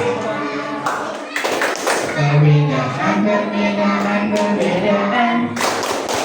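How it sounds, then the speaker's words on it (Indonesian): Schoolchildren at an Indonesian madrasah perform a rhythmic clapping chant about tolerance, voices singing together over repeated hand claps in a steady beat, loud and close. "kita tepuk toleransi ya"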